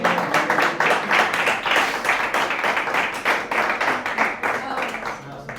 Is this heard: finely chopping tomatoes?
no